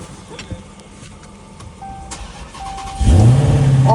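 A broken-down Dodge Hellcat Redeye cranks and fires up after a jump start, rising from faint clicks and whirring into a loud, close engine roar that settles into a steady idle.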